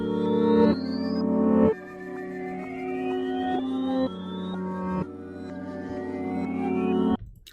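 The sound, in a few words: reversed music sample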